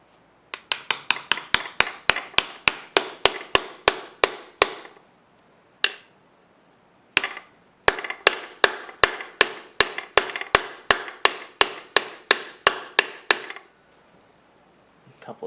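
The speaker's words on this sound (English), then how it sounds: "Couple of taps," Socket used as a seal installer being struck on a d16 transmission: dozens of sharp, evenly spaced metallic hammer taps in two long runs separated by a short pause with a few isolated hits.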